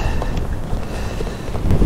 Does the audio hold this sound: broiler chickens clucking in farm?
no